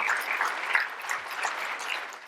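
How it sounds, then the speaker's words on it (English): Steady applause from a crowd at a training course, dense clapping filling the whole stretch at an even level with no voices on top. "David, great round of applause."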